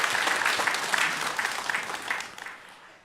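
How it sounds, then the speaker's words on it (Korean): A church congregation claps together during a Sunday worship service, a dense, steady round of applause that gradually fades out at the end. "하나님께 영광의 박수 올려드리겠습니다"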